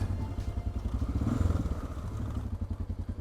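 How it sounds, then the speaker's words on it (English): Motorbike engines putter nearby with a steady, low rhythmic throb at moderate volume and a few light clatters, and no talk. "Ah yeah, I see motorbikes."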